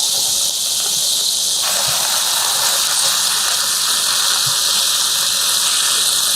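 Tandoori chicken sizzles in a hot pan with a loud, steady hiss that runs without a break, close up and with no talk over it.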